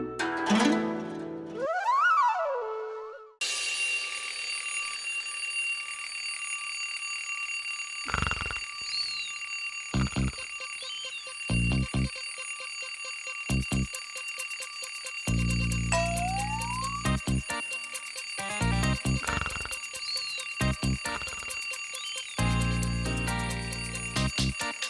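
An alarm clock rings for a long stretch in a repeated pattern of loud, bright bursts separated by short gaps, with a brief musical passage at the start and no talking.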